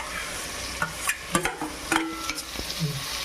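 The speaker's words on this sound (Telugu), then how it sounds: "ఉల్లిపాయ, టమాటా, క్యారెట్ వేసుకొని తిప్పుకోవాలి ఫుల్గా" Onion, tomato and carrot stir-fried in a pan for mushroom biryani, with a steady sizzle under irregular scraping and clinking strokes of a spoon against the pan, fairly close and with no talk.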